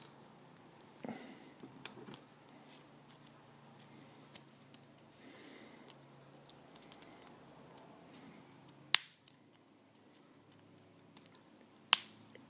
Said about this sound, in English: A pair of sharp scissors.